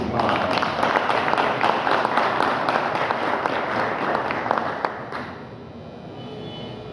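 An audience applauding at an official installation ceremony for a new office director, a steady wash of many hands clapping for about five seconds before dying away into quiet room tone.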